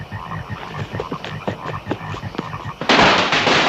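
Frogs croaking in a 1970s film, a dense chorus of rhythmic croaks, then a sudden loud burst of crackling blasts like firecrackers near the end.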